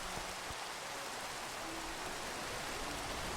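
Steady hiss of rain falling in a Minecraft modpack game world, an even, continuous wash of drops with no pauses, fairly quiet and unaccompanied by voices.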